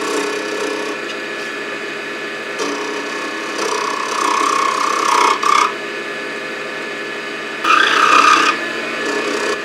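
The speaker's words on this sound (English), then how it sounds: "try to do just one very smooth scraping run across the entire length" A tool scraping steadily against spinning wood on a lathe while turning a tamper, a continuous raspy rubbing with a few louder, brighter passes, close and alone with no talking.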